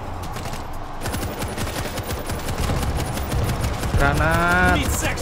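Automatic machine gun fire in the World War Z video game on hard mode, a steady, loud, rapid rattle of shots that continues without a break, with game sounds layered over it near the end.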